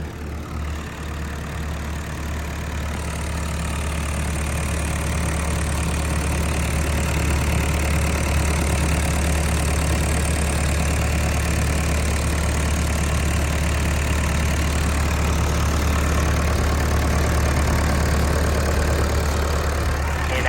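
A Komatsu PC138US-8 12-ton excavator's 4D95L diesel engine idles steadily and fairly quietly, a continuous low rumble heard close up with no voices.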